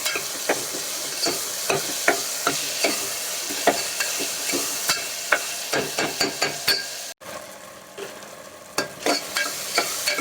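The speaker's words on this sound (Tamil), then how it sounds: "இப்போ வெங்காயம் தக்காளி எல்லாமே நல்லா வதங்கிடுச்சு" Onion and tomato sauté with salt in a pan, with a steady close sizzle and a run of regular spatula scrapes and taps against the pan, briefly cut off partway before the stirring resumes.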